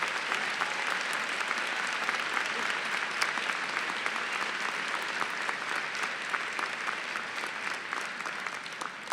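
Sustained applause from a large audience at a university winter undergraduate commencement ceremony, steady dense clapping that continues for several seconds without a break.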